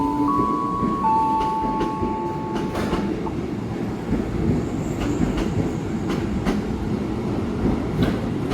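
A train rumbles steadily along the tracks at an Indonesian commuter rail station near Jakarta, with rhythmic clatter and brief high squeals, close and continuous throughout.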